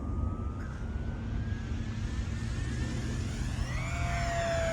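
A radio-controlled E-flite P-51D Mustang 1.2m model warbird flies a big loop, its electric motor whining in a steady tone that slowly rises in pitch, heard from a distance over outdoor wind noise.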